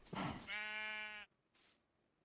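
A Minecraft sheep gives a single clear bleat with a rising wavering tone, close and distinct, followed by a faint short second sound and quiet, with no speech.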